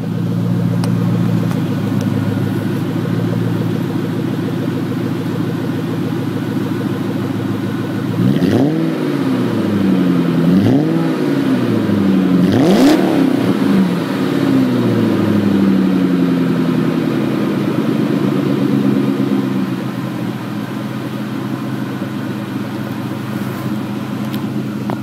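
A 2003 Mustang Cobra Terminator idles through its exhaust as a steady, loud rumble, with a few swelling revs rising and falling in the middle before it settles back to idle.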